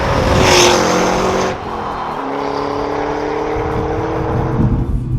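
A 2010 Ford Shelby Mustang GT500 V8 driving, its engine droning loudly and steadily from inside the car, pitch falling after a brief upshift, then climbing slowly as it pulls again, with no talking.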